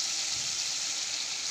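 Water is splashed into red chili powder, turmeric and salt frying in a pan, giving a loud, steady rushing hiss throughout with no speech.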